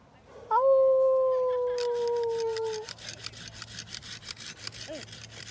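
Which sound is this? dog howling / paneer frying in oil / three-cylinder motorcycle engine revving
dog howling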